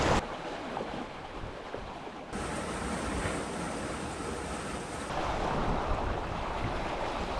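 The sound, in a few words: ocean waves while sailing, no engine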